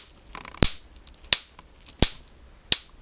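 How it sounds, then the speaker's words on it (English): Spark plug arcing across its tips with a piece of paper placed between them, four sharp crackling snaps spaced evenly about two-thirds of a second apart against a quiet background. "This is, that's normal sparking."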